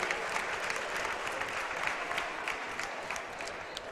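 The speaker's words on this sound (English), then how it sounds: "let's go ahead and clap for that" A crowd at an expo at a state capitol applauds steadily throughout, a dense, even patter of many hands clapping at moderate loudness with no pauses.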